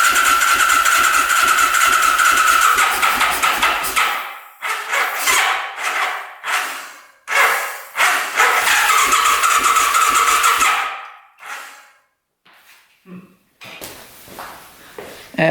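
An old 1200cc motorcycle that sat for over twenty years cranks hard without catching: a long loud starter whir, then a string of shorter bursts separated by gaps of silence, ending in faint clicks.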